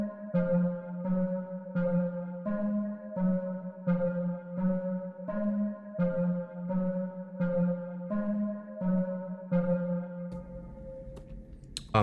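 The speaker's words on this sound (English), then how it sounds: "The BPM's at 170, so these hits of the synth, they move pretty fast and give the beat a lot of movement and feel" Fast, repetitive synth hits in a 170 BPM beat made in Soundtrap, a bell-like tone pulsing in a steady quick rhythm throughout, with a low bass layer under each hit and no voices.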